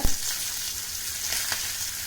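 Green chilies and curry leaves fry in a loud, steady sizzle with a dense crackling hiss throughout, plus a few sharper pops and spits, close by with no talking.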